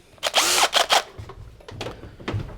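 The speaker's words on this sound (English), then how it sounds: "So, I'll need to put a pilot hole in" A power drill bores a pilot hole into a Nauticus 27 ft cruiser boat under restoration, ready for a jigsaw blade: a loud, close whine for about a second, then quieter intermittent bursts of drilling and handling noise.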